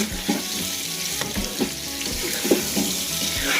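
Spiced chicken with biryani masala sautéing in a pan, a steady sizzle with irregular scraping and stirring knocks of a utensil, close and continuous, no voices.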